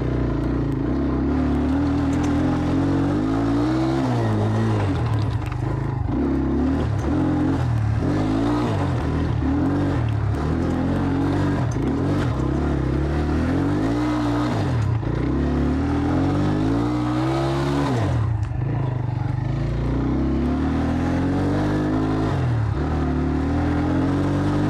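Enduro motorcycle with an engine taken from a Pérák, ridden along a forest track: the engine drones steadily close up and repeatedly revs up and drops back as the rider works the throttle, continuous for the whole stretch with no talk.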